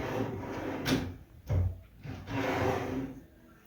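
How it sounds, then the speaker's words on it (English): Wooden dresser drawers being assembled: a few sharp knocks and thuds of wood panels fitting together, with scraping and rubbing sounds in between, close and fairly quiet. "These are assembling the drawers."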